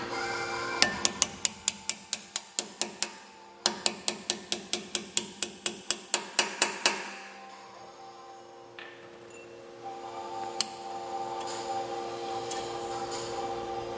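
Hammering a pin through Brembo brake pads into the caliper on a Genesis Coupe: two runs of rapid, evenly spaced sharp metallic taps, about a dozen each, separated by a short pause, followed by quieter garage noise.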